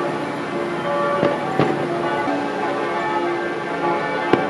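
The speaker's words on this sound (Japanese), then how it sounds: "鐘の音がすごい。" Church bells ring out at night in Zermatt at the foot of the Matterhorn, with lingering tones, mixed with scattered sharp firework pops over a steady outdoor hum on national day.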